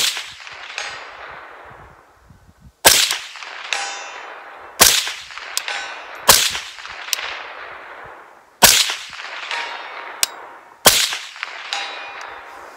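A Primary Arms 1x Cyclops SLx Compact 1x20 prism scope is struck hard again and again in a torture test. Each blow gives a loud, sharp metallic clang with a ringing decay, roughly eight irregular hits and no voices.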